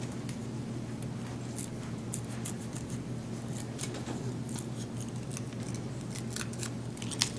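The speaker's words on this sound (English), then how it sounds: "When you cut them out with scissors, you don't get a real clean edge." Scissors snip repeatedly while cutting out paper shapes, the sharp clicks of the blades faint and irregular over a steady low electrical hum.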